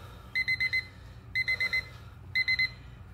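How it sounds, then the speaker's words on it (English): A workout timer alarm beeps in three bursts of four quick, bright electronic tones, evenly spaced and fairly loud over a low background hum. "Let me let this timer burn out."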